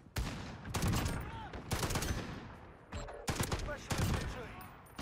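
FAL burst rifle fire in a video game, sharp rapid bursts of gunshots in several separate volleys with quiet gaps between, loud and close, with a voice talking faintly in the background.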